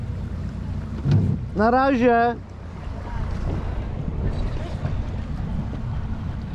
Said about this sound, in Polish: To jest silnik Suzuki.